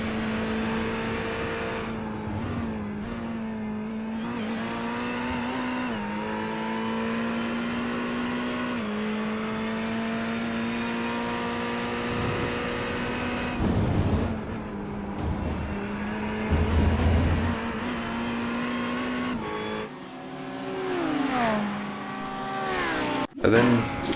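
A BMW GT race car in a racing video game at Road Atlanta, its engine droning loud and steady with rising and falling gear pitch, other cars nearby, under continuous commentator talk.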